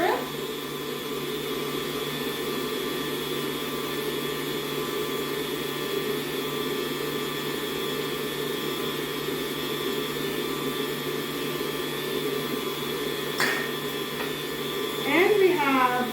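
An electric mixer beats cinnamon roll cookie dough in a steady, moderately loud whir that runs the whole time, with a brief clink near the end and no voices.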